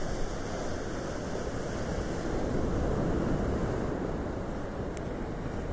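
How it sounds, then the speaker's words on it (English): Waves wash onto a beach in a continuous, rolling roar, mixed with wind rushing across the microphone. "You love the sounds of the water?"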